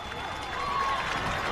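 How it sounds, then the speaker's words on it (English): Football stadium crowd cheering after a made field goal in an overtime high school game, a broad sustained roar of voices and applause, steady and fairly loud with a radio announcer talking over it. "the crowd is loving it"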